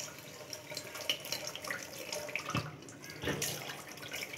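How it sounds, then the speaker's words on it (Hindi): A kitchen water tap runs steadily onto a pressure cooker, giving a continuous close splashing rush with a couple of louder gushes partway through. "हल्का सा नल खोल दें थोड़ा प्रेशर के साथ,"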